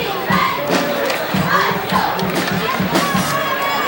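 A college football crowd cheers and shouts in the stands during a Rowan University versus TCNJ game, a loud, constant roar with scattered yells.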